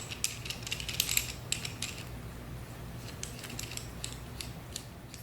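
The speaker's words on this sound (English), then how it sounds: "We're going to grab another one of our M22 plugs, and we're actually going to screw it in as well." An M22 plug is threaded into a pressure washer spray wand by hand, making quick ratcheting clicks and small metallic mechanism sounds, louder at first then lighter and steady, close-up with no talk.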